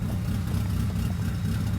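A DSM 4G63 engine swapped into an all-wheel-drive Mini Cooper runs at a steady idle, a low, even engine rumble close by with no talking.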